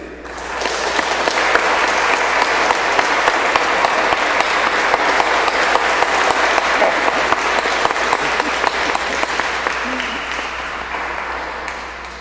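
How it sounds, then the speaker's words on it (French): Sustained applause from a church congregation at a Sunday Mass, welcoming four people about to be baptized: dense, even clapping that swells quickly, holds steady for about twelve seconds, then tapers slightly. "je vous invite à les"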